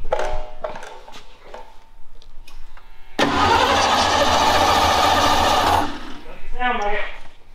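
A Broncstar engine being cranked in a garage, a few short clicks and knocks giving way to a loud, sustained starter whir and rumble lasting several seconds, then cutting off to fainter mechanical sounds, close by.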